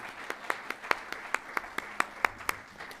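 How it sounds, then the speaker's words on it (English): An audience claps steadily at the close of a session of resident lectures, a short run of sharp, fairly sparse claps in a hall with no talking over them. "Let's give a final round of applause for our speakers for today."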